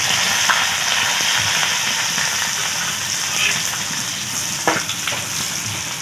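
Whole red chillies, nigella seeds and white cumin sizzle in hot tempering oil for lentil dal, giving a loud, close, continuous frying crackle with a few sharper pops and stirring scrapes.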